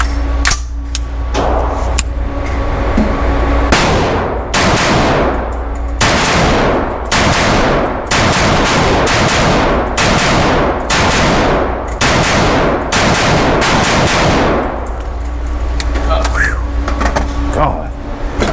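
A Watchtower Type 15 NSRO limited-edition rifle fires about ten loud, close gunshots at a steady, spaced rhythm, each a sharp broadband crack with a short ringing tail.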